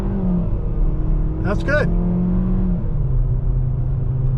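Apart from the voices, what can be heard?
2023 Kia K5 GT Line AWD accelerating from a stop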